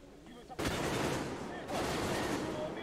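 Gunfire aimed at the player in the video game Metro Exodus bursts in loudly after a short quieter lead-in, then continues as dense, sustained shooting, briefly easing before surging again.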